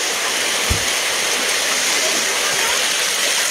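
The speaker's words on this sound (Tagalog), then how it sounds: "Ito po yung ilog guys" Steady broadband rush of a river flowing near Araneta Avenue, loud and continuous like rushing water, with someone talking over it.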